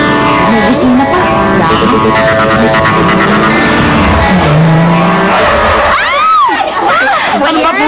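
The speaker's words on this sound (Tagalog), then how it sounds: "Ang bilis ng kotse." A car speeding past on a road, its engine and tires roaring loudly with a squealing, skidding edge near the end. People are talking throughout.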